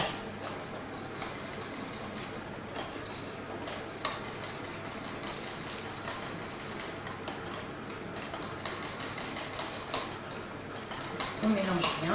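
Egg yolk is mixed into cream for crème brûlée with steady, fine clinking of a utensil against a bowl that repeats throughout, close and fairly quiet.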